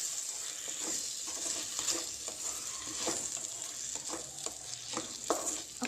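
Chopped tomatoes and okra sizzle steadily in a hot pan for a tomato okra curry, with scattered spoon-stirring scrapes over a constant frying hiss and no talking.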